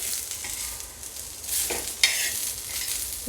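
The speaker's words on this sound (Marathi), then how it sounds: "सगळ्यांना चांगल्याने आपण परतवून घेऊया" Spices sauté in a spoonful of hot oil in a pan for a Maharashtrian patodi rassa, giving a steady close sizzle broken by a few soft stirring scrapes.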